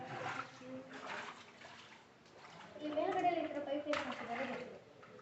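Water trickles and drips inside Belum Caves in Andhra Pradesh, a soft steady wet patter echoing in the cave while people talk over it.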